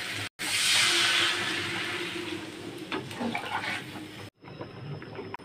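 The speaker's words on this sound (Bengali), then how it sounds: "এখন আমি দিয়ে দেবো জল।" Water poured into a hot pan of spiced potatoes and cauliflower hisses loudly at first, then settles into a softer bubbling sizzle with light clatter before cutting off.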